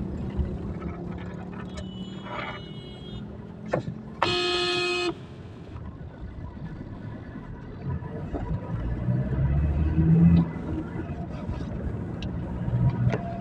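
Car driving along a road, engine and road noise steady throughout, with a loud sustained horn blast near the start as a vehicle behind comes up to overtake, the rumble swelling as it passes.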